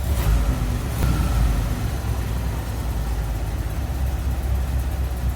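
Bumblebee car's engine idling around 1,000 RPM, a steady low rumbling drone with a couple of brief blips early on, continuous and fairly close without any talking.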